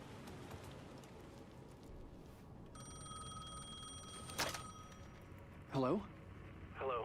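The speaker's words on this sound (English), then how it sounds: "The phone was ringing again." A telephone rings in the horror game Alan Wake 2, a bright electronic trill over a soft rain-like background, with a short burst of voice near the end.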